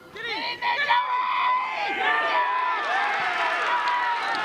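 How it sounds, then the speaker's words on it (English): A home crowd at a Tasmanian amateur football match, Hobart versus Lindisfarne, erupts in cheering and excited shouts after a go-ahead goal, with whoops and raised voices layered over a continuous roar. "The crowd noise, the celebrations, do it all."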